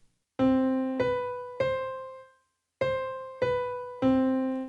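Six clear instrument notes in two groups of three, separated by a short silence, each struck firmly and left to ring before the next.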